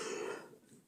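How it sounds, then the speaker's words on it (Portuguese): A single cough from someone commenting on football, a short rough burst fading out over under a second, close and moderately loud. "perdão pela tosse"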